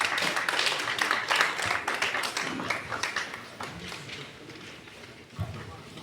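An audience applauds after a speech at a conference event, scattered claps forming a moderate wash that gradually fades in loudness, with no voices over it.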